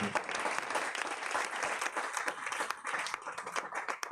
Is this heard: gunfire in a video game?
no